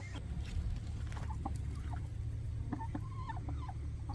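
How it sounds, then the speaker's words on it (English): A rooster in a backyard flock clucks in short, scattered calls over steady low background hum, with other chicken sounds faintly around it. "Beaker, we know that you're a rooster, and you're the bestest rooster boy, aren't you?"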